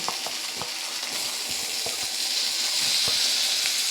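Tomato and a ginger, cumin and green chili paste frying in a pan, with a steady close hiss and crackle broken by small sharp pops and stirring taps, no voices.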